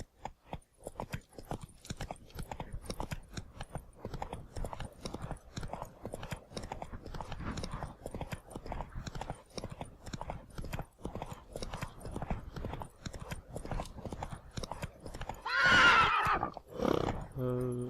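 A horse in The Witcher 3 gallops with rapid, steady clip-clop hoofbeats over game ambience, then neighs loudly near the end.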